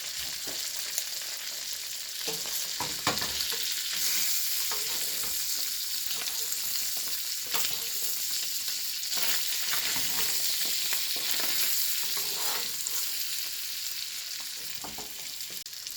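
Salmon fillet fries in butter in a frying pan, a continuous close sizzle with soft bursts of spattering and occasional scrapes as it is basted.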